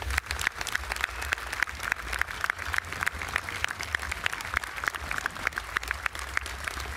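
A crowd claps in steady, sustained applause at a New York State Police special operations demonstration, many hands heard at a moderate distance without a break.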